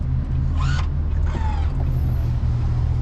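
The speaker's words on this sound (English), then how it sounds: "I'm flipping down the middle seats, flipping down the back seat." Power-folding middle and rear seats of a 2018 GMC Yukon XL flip down, heard as mechanical creaks and motor whirs over a steady low cabin hum, close by with no speech.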